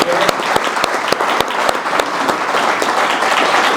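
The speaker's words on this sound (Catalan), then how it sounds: "us demanaré un aplaudiment per al debat" An audience applauds at the close of a round-table debate on relativity versus quantum physics, a loud, dense wash of clapping sustained evenly, with a few sharper individual claps standing out.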